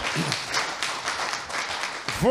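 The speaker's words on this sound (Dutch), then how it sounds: "Geef hem een applaus en de anderen ook." Audience applause at an election debate in a village hall in Uddel, a dense steady patter of many hands clapping close by for about two seconds, with a brief voice rising at the very end.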